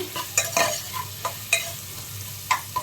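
Salt and dal frying in a pan for a cucumber mixed dal curry, a soft steady sizzle broken by several sharp scraping stirs and spatula taps at irregular intervals, close up with no talking.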